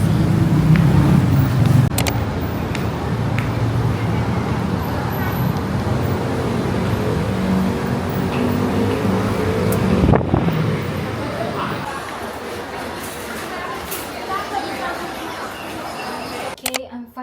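Gridlocked traffic on a busy Bangkok street near Big C in Pratunam, heard from the sidewalk as a dense, steady roadway rumble with wind buffeting, easing to a quieter hum toward the end.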